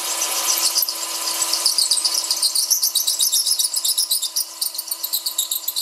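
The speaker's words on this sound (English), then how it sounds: "I can see the tip of the drill bit." A drill bit grinds and squeals sharply through hard material, the shrill screech pulsing in rapid, regular bursts as it pushes through.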